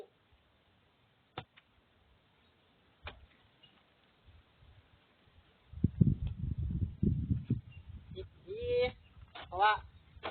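Ducks and chickens honking and squawking in a few loud bursts toward the end, after a muffled jumble of nearby movement and scattered faint ticks.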